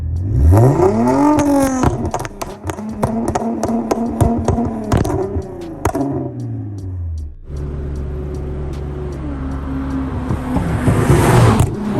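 A tuned Toyota Mark X with a 270-horsepower engine revs hard and loud close by, pitch climbing then falling, followed by a steadier burbling idle with rapid popping and banging crackles from the exhaust.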